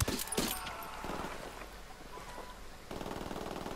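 Gunfire in the video game Ghost Recon Wildlands: a dense clatter of shots at the start, a quieter stretch, then a rapid automatic burst of evenly spaced reports near the end, loud and close.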